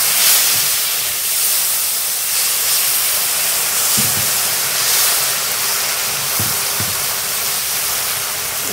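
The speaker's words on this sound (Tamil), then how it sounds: "நம்ம வெந்நீர் போட்டால் உடனே சீக்கிரம் வெந்துடும்." Hot water is poured onto roasted broken emmer wheat rava while making halwa, and the pan gives a loud, steady steaming hiss with a few faint knocks.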